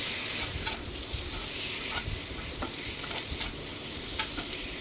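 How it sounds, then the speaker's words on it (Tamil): Beef liver coated in masala sizzles and fries steadily in a pan, with a constant close hiss and occasional stirring scrapes throughout. "அந்த பீஃப் லிவரில் எல்லாத்துலேயும் மசாலா கோட் ஆகுற மாதிரி நல்லா 2-3 வாட்டி ஃப்ரை பண்ணிக்கிறேன்"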